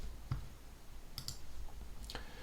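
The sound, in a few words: computer mouse clicking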